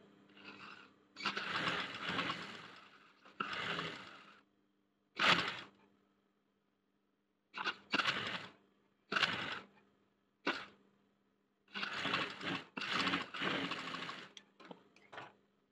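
Domestic sewing machine stitching a collar onto the shoulder of a school-uniform churidar, running in several short bursts of whirring, rapid stitching separated by pauses, close and alone without talk.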